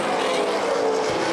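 Race cars roar around Winchester Speedway in a CRA Super Series 400-lap event, a loud continuous engine drone filling the short moment with no break.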